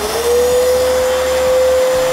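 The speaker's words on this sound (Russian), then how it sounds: "Ну и включаем пылесос." An Arnica Vira washing vacuum cleaner runs with a loud, steady motor whine that rises slightly in pitch as it spins up, then holds even throughout, with no talking.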